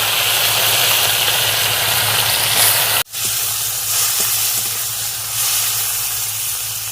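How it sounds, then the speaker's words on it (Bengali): Chopped tomato fries in mustard oil in a wok, giving a steady loud hiss and sizzle that cuts out for an instant partway through, then resumes with a low background hum. "আবার একটু কড়ার মধ্যে সরষের তেল দিয়ে দিচ্ছি। ওই তেলের মধ্যে টমেটোর কুচি দিয়ে দিচ্ছি।"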